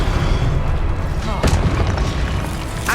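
Spell effects in the video game Hogwarts Legacy, heavy booming blasts and rumbling bursts layered under a voice calling out incantations, loud and continuous with sharp impacts.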